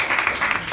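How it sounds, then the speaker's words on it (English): Audience applause at a club meeting, a brief steady wash of clapping with no voices over it. "a big round of applause for"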